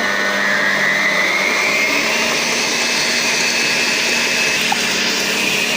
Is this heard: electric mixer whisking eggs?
yes